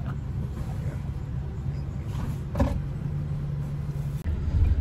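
A U-Haul moving truck drives along the road on an early-morning move to a first apartment in Chicago, giving a steady low engine and road rumble inside the cab, with a brief knock partway through and no talking.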